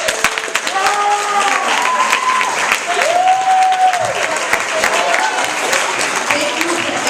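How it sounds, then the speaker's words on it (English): High school talent showcase audience claps for the faculty, a sustained, loud burst of many hands with cheering voices and whoops riding over the clapping throughout. "I want you guys to clap for faculty."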